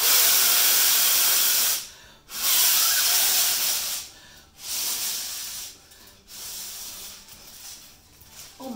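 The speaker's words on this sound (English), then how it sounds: "I was blowing and the air was just coming straight out" Steady loud hiss of air rushing out of a balloon being blown up through a straw, in long continuous bursts broken by short pauses for breath, close to the listener with no talking.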